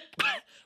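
A single small, close cough from a man, a short throaty burst followed by a faint breathy tail.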